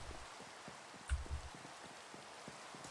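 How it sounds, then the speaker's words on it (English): Steady Minecraft rain patters softly across the whole stretch, faint and even, with a couple of brief low thumps in the middle. "that rain is still too loud for me"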